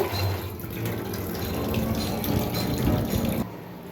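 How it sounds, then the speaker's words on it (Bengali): Radishes are washed under running water in a sink, a close, steady splashing and trickling with small knocks, continuing for a few seconds without talk. "তো মূলাগুলো একটু ভালোভাবে একটু ধুয়ে নিচ্ছি"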